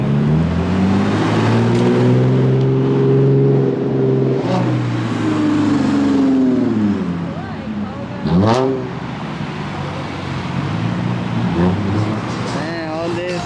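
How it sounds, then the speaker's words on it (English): Cars roll through a big car meet in Japan at night, a Supra among them, engines droning and revving as they pass one after another, with a sharp rev burst partway through and people talking nearby. "Man, all this car just rolled through."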